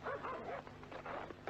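Dogs in a 1980 French fairy-tale film yelp and whimper in quick, overlapping bursts, close and fairly loud throughout, with no talk over them.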